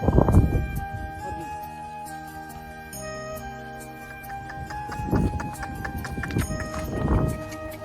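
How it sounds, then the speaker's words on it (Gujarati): A neighbour's bullocks walk past on a farm, their hooves striking in a few clustered clops that rise and fade against a steady tonal ringing, with no talking. "પાડોશીના બળદ છે."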